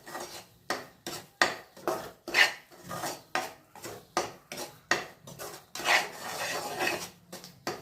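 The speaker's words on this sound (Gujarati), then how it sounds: "હવે ઘઉંનો લોટ પણ એડ કરી દીધો છે અને એને બરાબર આપણે મિક્સ કરીને ધીમા તાપે શેકી લઈએ" A spoon scrapes in a rhythmic, steady beat as wheat flour is stirred and roasted over low heat in a pan for sukhadi, about two strokes a second, close and clear.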